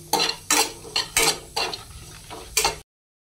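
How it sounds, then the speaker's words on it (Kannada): Curry leaves being fried and stirred in a pan for tomato rasam, heard as six or so close, sharp bursts of scraping and sizzling at a quick, uneven rhythm, then a sudden cutoff. "ಈಗ ಇದನ್ನು ಸ್ವಲ್ಪ ಹುರ್ಕೊಳ್ಬೇಕು, ಅಂದರೆ ಇದರ ಸ್ವಲ್ಪ ಹಸಿ ವಾಸನೆ ಹೋದಾಗ ಅದರ ಟೇಸ್ಟ್ ಚೆನ್ನಾಗಿರುತ್ತೆ"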